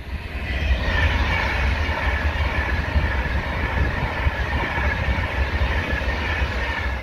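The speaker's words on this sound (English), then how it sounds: "Well, here comes the Pendolino." A Pendolino express train passes at speed on the West Coast Main Line, a loud, steady rushing roar with rail rumble that holds for several seconds without a break.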